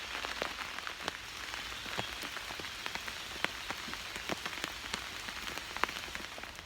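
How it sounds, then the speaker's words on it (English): Heavy morning rain falls steadily onto a canal, a dense, even hiss of countless drops with occasional sharper patters, close and continuous with no voices. "certainly raining fairly heavily this morning"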